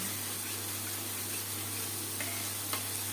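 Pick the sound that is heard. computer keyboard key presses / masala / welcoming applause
masala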